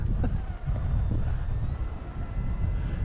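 Strong wind buffets the microphone at an RC flying field, a steady heavy rumble that fills the whole stretch, with a faint thin tone from a distant model aircraft engine riding above it.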